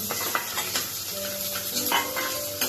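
Onion frying with spices in a pan: a steady sizzle with scraping stirs and light clinks of a utensil on metal, fairly close, with no talking.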